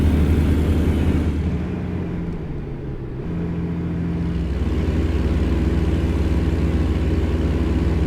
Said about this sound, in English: It's actually just listening to the sound of the engine.